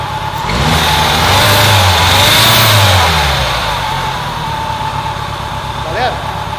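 A car engine revs up and settles back toward idle, loud and close, during a test of Nanotec metal conditioner on the engine; rising and falling engine tones dominate the first few seconds, then a steadier running note continues.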